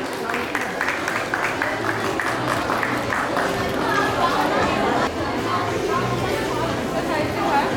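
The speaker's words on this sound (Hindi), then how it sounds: "बिल्कुल आप सबकी जोरदार तालियां होनी चाहिए" An audience at a baking taste-challenge event claps in a sustained, dense round of applause, with crowd chatter and voices mixed throughout.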